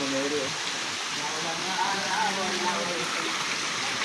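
Hot spring water pours down like a shower at a mountain spring, a dense continuous splashing rush that stays steady and close, with faint voices beneath it.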